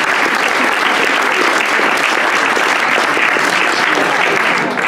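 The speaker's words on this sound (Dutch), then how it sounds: "Dus daarvoor graag een groot applaus." An audience at a music award ceremony for a soloist competition claps loudly and steadily, a dense, even wash of applause from a full room that holds for several seconds without voices.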